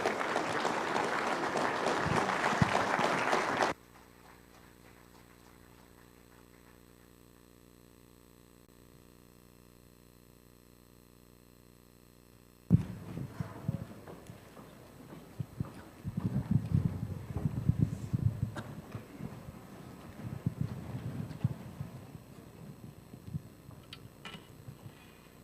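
An audience at an evangelistic campaign gathering claps to welcome a pastor, a burst of applause at first, then a long near-silent gap before scattered, uneven clapping and crowd noise return.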